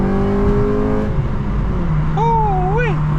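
An 8th-generation Honda Civic Si with a VTEC engine drops revs on a downshift, its steady tone falling then settling to a lower hum inside the cabin, while a voice briefly exclaims near the end.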